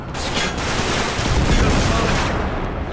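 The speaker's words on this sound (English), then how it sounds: "Fire turrets." Turret gunfire in Uncharted 3 makes a dense, continuous roar of rapid shots and blasts, loud and unbroken for several seconds.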